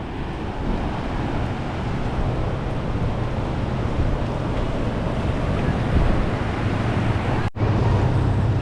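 Constant roaring wash of sea waves breaking on Chirala beach, with heavy wind buffeting the microphone throughout.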